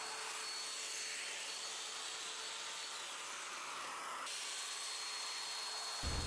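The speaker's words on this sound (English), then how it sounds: "I can just use my domino to make the mortises" A Domino joiner cuts mortises in plywood, a steady high-pitched whine with dust-extraction hiss running continuously, close and even, ending with a brief thump.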